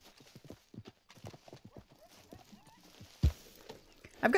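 Horse hooves clip-clopping at a steady walking rhythm in the Red Dead Online video game, close and fairly soft, with a couple of louder thuds near the end.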